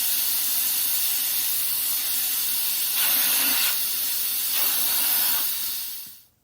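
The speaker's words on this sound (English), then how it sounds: "to take out the center of the Schrader valve" Air hisses steadily out through the Schrader valve of a deflating L39 jet tire, a loud, continuous close rush that swells briefly twice and then cuts off abruptly at the end.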